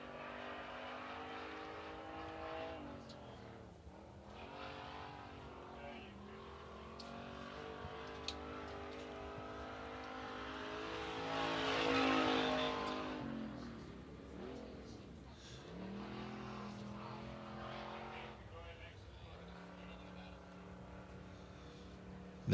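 A sprint car engine drones and revs on the dirt track at Southern Oklahoma Speedway, its pitch rising and falling as it circles and swells to a louder peak as it passes, heard fairly distant with no talk.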